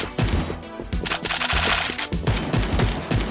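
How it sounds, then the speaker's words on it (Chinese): Rapid automatic gunfire from zombies in a shooter video game, loud dense bursts of shots firing in quick succession, nearly continuous across the clip. "那有僵尸会开枪的啦"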